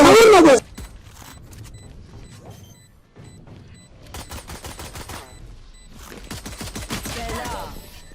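Gunfire in Valorant comes in short, sharp bursts of rapid shots, separated by quieter gaps, with a loud hit at the very start and another cluster of shots near the end.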